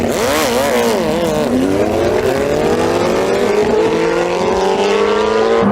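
A Koenigsegg Jesko and a tuned Hayabusa launching side by side in a drag race, engines roaring loud and close with rising, wavering revs that climb steadily through the gears.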